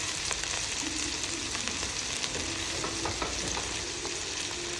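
Potato, bean and finely chopped capsicum pieces fry in a pan for a vegetable biryani, making a steady, close sizzle with a few stirring scrapes and no talk.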